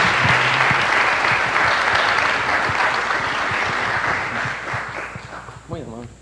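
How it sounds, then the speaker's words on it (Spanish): Loud, sustained applause from an audience at a commission ceremony, steady dense clapping that slowly thins out, and a voice comes in near the end. "le vamos a dar un fuerte aplauso"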